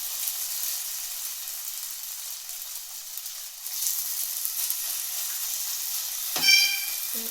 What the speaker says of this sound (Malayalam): നമ്മൾ അതിലേക്ക് നമ്മുടെ പൊട്ടറ്റോ ഇട്ട് കൊടുക്കുകയാണ്